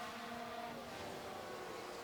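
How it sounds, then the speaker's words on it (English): Aston Martin Formula 1 car in the F1 Manager 22 racing game, overtaking with DRS at Monza, a steady high engine whine held throughout with a slight pitch shift, with no talking. "And there goes Vettel. Easy as you like, overtake with DRS down towards Ascari."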